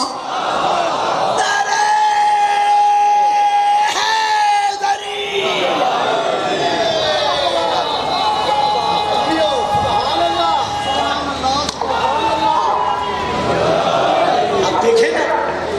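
A large crowd at a Muharram religious gathering chants a slogan in unison, loud and sustained, its voices swelling and echoing throughout.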